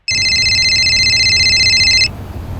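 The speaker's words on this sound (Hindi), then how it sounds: "देखो तो किसका फोन है?" A landline telephone rings in a steady electronic trill for about two seconds, loud and close, then stops abruptly, leaving faint room noise.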